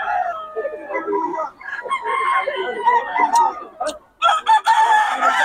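Chickens for sale at a roadside flea market in Bocaue, with a rooster crowing and hens clucking amid steady crowd chatter and people talking nearby.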